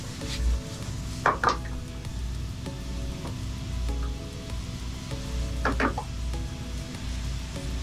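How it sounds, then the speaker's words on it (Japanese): Sliced onions go into minced meat frying in a single pan for pasta: a soft steady sizzle runs underneath while a utensil clatters against the pan in a few sharp bursts. "ひき肉も半分ぐらい火が通ったら、玉ねぎのスライスを入れていきます。"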